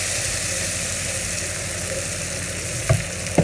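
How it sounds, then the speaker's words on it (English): Continuous close sizzling of beef sauteed with garlic, onion and pepper in a hot pan, dense and steady, with a couple of brief knocks of a utensil toward the end. "We saute it straight away with pepper and garlic and onion like this."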